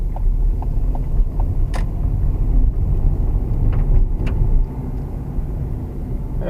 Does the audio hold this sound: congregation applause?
no